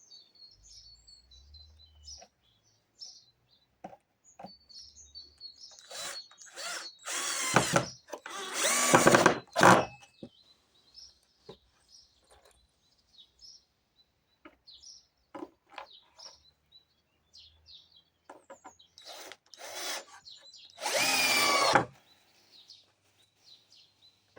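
A power drill driving 3 cm screws into the wood of a handmade beehive, several loud whirring bursts separated by quieter handling noises, with birds chirping faintly in the background.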